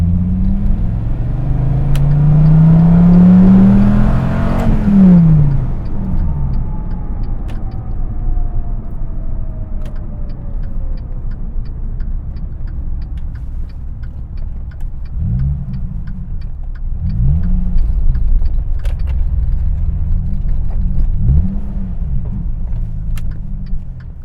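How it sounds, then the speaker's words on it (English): A Dodge Viper GTS rumbles with a deep engine note that climbs and drops through gear changes and short rev swells, steady and close throughout. "Putting it in first gear and thinking that you're parking the Viper."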